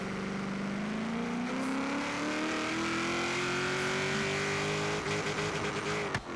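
Race car engine from Forza Horizon 3, a 700 hp, 700 ft-lb build tuned for roll racing, revs steadily upward in one long continuous pull, loud and alone with no talk, easing off near the end.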